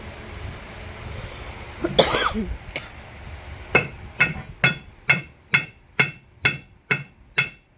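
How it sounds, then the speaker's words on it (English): Hammer blows drive a pogo stake onto a drowning cable built for beaver trapping, about nine sharp metallic strikes in a steady, quickening rhythm close by, following a few scattered knocks and handling noises. "I'm going to take this pogo, I'm going to drive it on."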